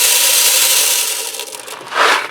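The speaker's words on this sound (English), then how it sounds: "I'm going to add some dry elbow macaroni in." Dry elbow macaroni pours into a Ninja Speedi pot, a continuous hissing rattle of hard pasta that thins out before a final louder clattering burst.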